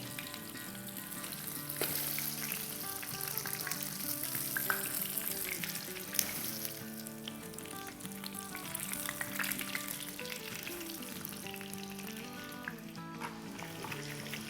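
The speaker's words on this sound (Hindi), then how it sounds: "तो कबाबों को हमें 10 से 12 मिनट तक फ्राई करना है" Kebabs fry in oil in a pan, giving a steady, dense sizzle and crackle that runs unbroken throughout with no talking.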